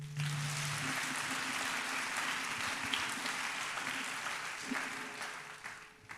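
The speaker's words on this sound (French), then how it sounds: "Acclamez." An audience at a national church retreat claps in sustained, dense applause, steady and fairly loud, tapering slightly at the end.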